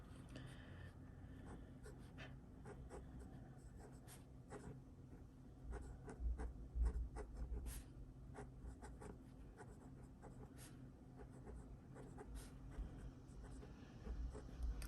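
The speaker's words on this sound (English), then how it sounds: "I'm writing the way pretty much I usually write" Pilot Custom 743 fountain pen with a bouncy nib scratching across paper in steady, quiet strokes, with soft pauses between words, close and alone over a low room hum.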